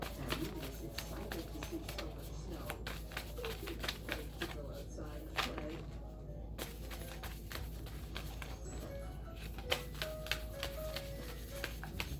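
Tarot cards being shuffled to pull a card, a run of soft papery flicks and riffles under a steady low hum, with faint chirping in the background.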